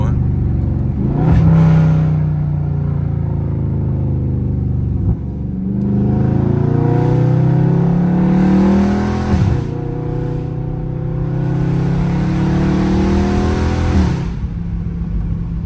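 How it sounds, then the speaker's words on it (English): Loud Dodge Scat Pack exhaust on a street drive, a deep rumbling engine that rises and falls through repeated revs and gear changes, close and continuous, with someone talking over it. "Very loud scat pack drive, you know what I mean?"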